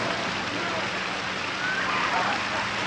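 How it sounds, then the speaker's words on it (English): Steady rain falls throughout, a dense continuous hiss with no clear drops standing out, heard alone at moderate level. "Yes, it's raining."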